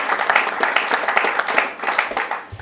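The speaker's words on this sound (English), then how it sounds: "Let's give him a round of applause." A government press event audience breaks into loud, sustained applause, a dense wash of many hands clapping together for the full length, close and steady with no talk over it.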